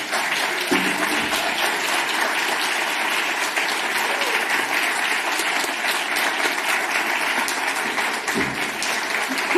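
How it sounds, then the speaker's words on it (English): Sustained audience applause after a keynote at an open education conference, loud, dense clapping from a large crowd continuing evenly throughout. "let's just keep clapping"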